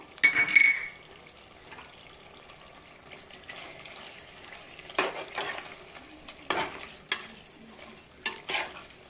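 A paste of coconut, cashew and poppy seed frying in chicken curry, with a soft low sizzle and several sharp bursts of stirring and scraping in the pan.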